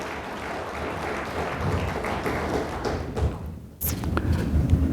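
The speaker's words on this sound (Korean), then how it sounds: "박수 쳐주셔도 괜찮아요." Broad, steady clapping from an audience of National Assembly members at a seminar in Korea, a dense wash of noise with a brief dip and a sharp knock before it resumes.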